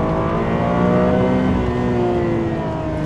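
A Ferrari 550 Maranello's front-mounted V12 revs up to around 7,500 rpm, a smooth rising howl with layered harmonics, loud and close, holding steady without any talk.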